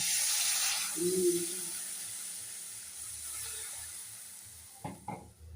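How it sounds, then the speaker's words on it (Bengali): Water poured into a pan of oil-fried spice masala, made with Kashmiri chilli powder for an egg curry, sends up a loud, bright hiss that slowly fades into a softer simmering sizzle. A couple of brief clanks come near the end. "মশলা দিয়ে তেল ছেড়ে এসেছে, এবার জল দিয়ে দিচ্ছি।"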